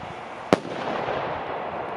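A single sharp bang from a Pyrofun Triplex New Year's fireworks set cracks out, followed by a soft crackling, hissing tail fading in the open air.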